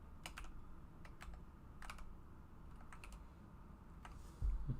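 Quick bursts of keystrokes on a computer keyboard, close and fairly soft, arriving in irregular clusters with short pauses, ending with a brief louder thump.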